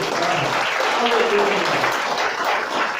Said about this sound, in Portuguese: Pode aplaudir hoje.